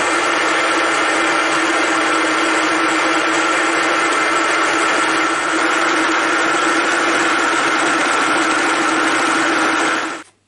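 An experimental fly cutter milling at 750 RPM gives a loud, steady machining whine and hum, constant throughout and then cutting off abruptly at the end, with no talking.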